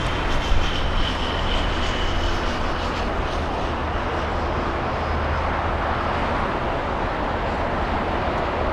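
A Boeing 747 heavy jet takes off at LAX, a broad, loud, steady roar of engine noise that holds unbroken throughout, heard from outdoors at a distance.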